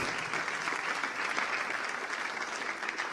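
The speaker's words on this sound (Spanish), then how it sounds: "Dele un aplauso fuerte al Señor entonces." Steady applause from a church congregation fills the space, dense and continuous at moderate distance with no voices rising above it.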